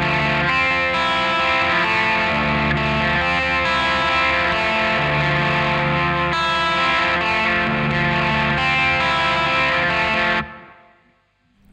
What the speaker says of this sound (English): And that gets you into the D section for the rhythm guitar and the solo.